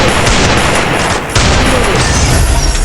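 Desert Eagle gunfire in a shooter video game rings out as loud, dense blasts with a short dip midway, landing a headshot.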